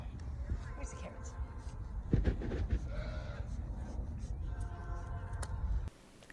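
Farm goats give a few bleats at moderate distance, mixed in among a person talking over them.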